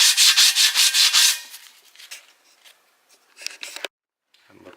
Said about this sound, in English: just grab a little piece of sandpaper, starting at 400 grit, a little bit of water, dip it, and just get the sanding